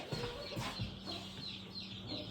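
Chickens of mixed breeds cluck on a small budget farm, with several short close calls sounding over steady barnyard background noise and no talking.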